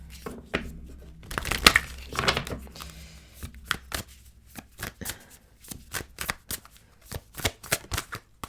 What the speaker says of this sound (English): let's go ahead and pull some astrology cards